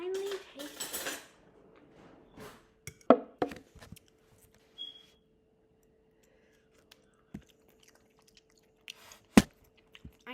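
Homemade pasta with mozzarella being tasted, with cutlery clinks against a plate and a few soft, close chewing sounds in an otherwise quiet room after brief opening voices.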